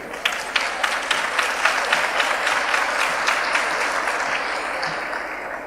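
An audience at an international education forum applauds with a steady, dense patter of clapping from start to finish. The clapping stays strong and even throughout, with no voices over it.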